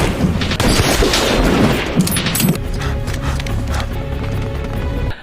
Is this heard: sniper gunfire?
yes